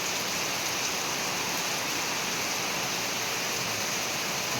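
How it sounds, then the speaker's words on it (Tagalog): Steady, dense hiss of heavy rain pouring onto the ground, constant and enveloping with no pauses or voices. "Nakabagsak pa lang ang ulan."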